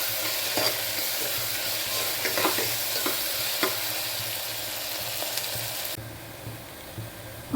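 Sliced onions with salt frying in a pan until brown, a close, even sizzle broken by scraping stirs, then quieting sharply near the end.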